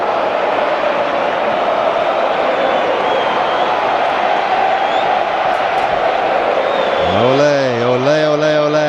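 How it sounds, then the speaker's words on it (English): Cricket crowd at the Wanderers stadium during a tense finish against Australia, a dense steady roar of massed voices and cheering throughout, with a loud sung chant rising clearly at the very end. "Ole, ole, ole, ole. Sing the crowd at the Wanderers."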